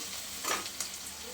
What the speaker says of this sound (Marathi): छान सगळं परतून घ्यायचं तेलामध्ये दोन मिनटं सगळं गुलाबी रंगावरती परतून घ्यायचं आहे आपल्याला